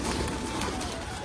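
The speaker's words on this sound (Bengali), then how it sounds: "এই যে দেখো কত পায়রা" A large flock of pigeons gathered on a roof and the ground coo together, a soft low burbling murmur close by and continuous over a brief moment.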